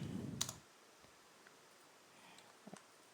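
Faint, sparse clicks of keys on a computer keyboard as code is typed, a few scattered taps after a short muffled rustle at the start.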